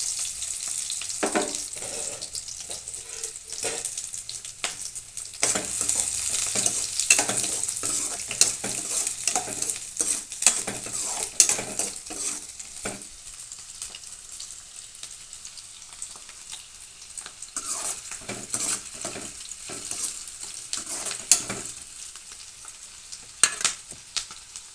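Three cut onions frying in a pan with mustard seeds and cumin, a soft constant sizzle broken by frequent scraping and clinking stirs of a utensil against the metal, close and busy throughout without any talking.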